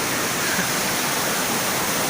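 Salvosa Falls in Araibo, Pantukan, Davao de Oro, gives off a continuous dense rush of falling water, steady and close with no other sounds.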